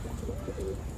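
A soft, low coo from teddy bear pigeons sounds briefly over a steady background hum, with no one speaking.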